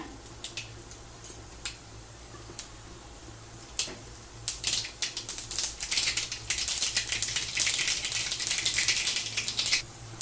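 Sharp crackling pops of mustard seeds spluttering in hot oil, sparse at first then building into a dense, steady crackle over a low hum.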